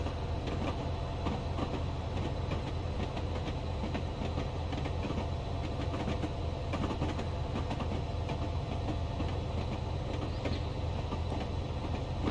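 Class 67 locomotive hauling twelve sleeper coaches over the Forth Bridge in Train Simulator, with a steady loud rumble and a continuous rolling clatter of wheels on rails throughout, no voices.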